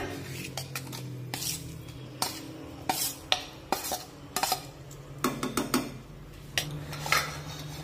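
Ground coconut paste sautéing with spices in oil in a pot for spicy chicken curry, with repeated sharp clinks and scrapes of a metal spoon against the pot over a faint low sizzle.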